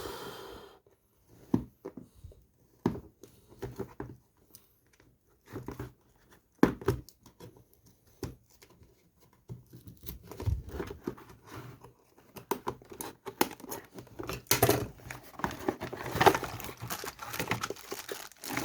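Close crackling, crinkling and tearing noises with sharp rips and scrapes, irregular and growing busier, like tape being pulled off cardboard.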